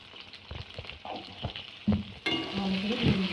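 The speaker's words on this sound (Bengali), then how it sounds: "তেলটা গরম হয়ে গেছে, বেগুনগুলো ভেজে নেব।" Eggplant frying in hot mustard oil with salt and turmeric added, a steady close sizzle broken by scraping stirs, rising to a louder, denser crackle partway through.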